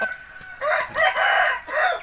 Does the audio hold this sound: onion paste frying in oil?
no